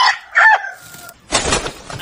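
A rooster crows loudly and close by at a rural home where food is cooked over a fire, its call followed by a burst of rough noise.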